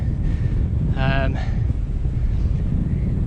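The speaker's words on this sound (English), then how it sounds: "Bloody hell, it's windy." Loud wind buffeting the microphone throughout on the North Wales coast, a constant low rumble, with a brief voice cutting through in the middle.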